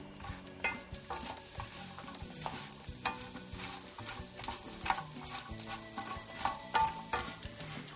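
Lightly salted walnuts fry in a pan until burnt, a continuous close sizzle with frequent stirring clatters and scrapes rising and falling throughout.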